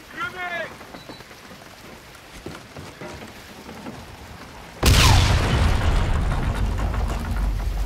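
A grenade explodes in the video game Call of Duty: Infinite Warfare, a sudden loud blast about two thirds through that leaves a dense roaring rumble after a brief voice and quieter gameplay noise.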